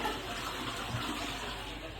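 Toilet flushing in a Dubai apartment bathroom, a steady, full rush of water lasting the whole moment at close range with no pause.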